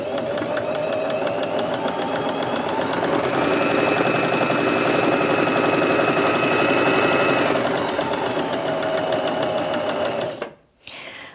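A Bernette B35 sewing machine stitches steadily, its motor whirring from slow speed up to about 820 stitches per minute, close and continuous, then stopping abruptly near the end.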